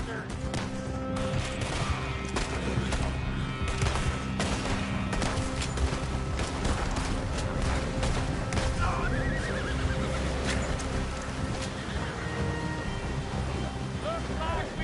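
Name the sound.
gunfire in video game Red Dead Redemption 2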